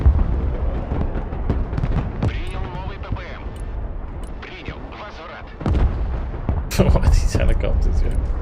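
A Panzer tank fires in the Broken Arrow war strategy video game, several heavy booming shots and explosions at irregular intervals amid battle noise, with someone talking between and over the blasts.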